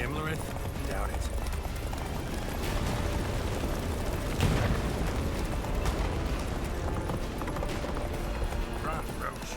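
A horse gallops hard with rapid hoofbeats in The Witcher 3 video game, thudding steadily beneath loud battle noise and shouted character voices throughout.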